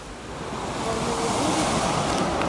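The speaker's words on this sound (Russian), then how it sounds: "Ух ты, волна, правда." Steady rush of Black Sea waves washing in at Adler on a calm day, broad and continuous, with a breezy wind noise over the microphone throughout.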